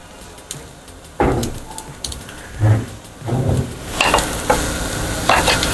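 A thin rice-flour ghavan crepe sizzles in oil on a hot pan, with a steady hiss broken by a few sharper clanks and scrapes, close and fairly loud with no voices.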